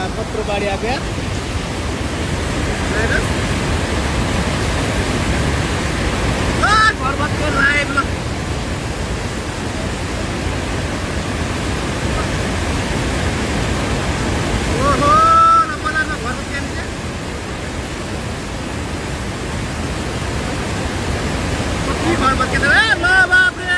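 Flash flood on the swollen, sediment-laden Trishuli river in Rasuwa, Nepal: a loud, unbroken roar of rushing water fills the whole stretch, with a few faint voices briefly rising above it.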